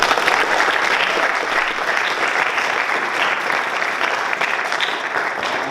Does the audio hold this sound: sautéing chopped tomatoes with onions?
no